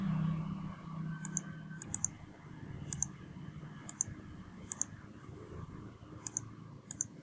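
A computer mouse clicks sharply about a dozen times at uneven intervals, crisp and close against a quiet room with a faint low hum.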